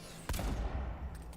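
A gunshot in Avowed strikes and smashes an object: one abrupt loud crack followed by a short rumbling burst, with no talk.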